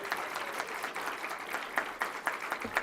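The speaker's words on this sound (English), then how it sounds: "Let's applaud them again for being here." An audience at a legislative event for a national museum of the blind people's movement applauds, a fairly close burst of hand claps with distinct individual claps standing out.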